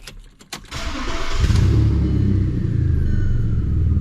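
A car engine starts with a few sharp clicks, then settles into a steady, loud, rumbling idle through a muffler exhaust patched with a can and straps, slightly raspy and continuous.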